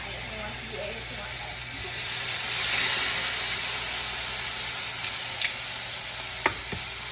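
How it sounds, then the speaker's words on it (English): Steady sizzling of marinated flank steak frying in a pan, a continuous close hiss with a few small pops and clinks, and no talk over it. "Sizzle, sizzle."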